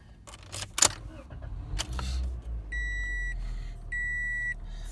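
A red 2017 Toyota Corolla with about 10,000 miles is started: a few electronic chimes and clicks, then the engine turns over and settles into a steady low idle. Two longer warning tones sound afterward.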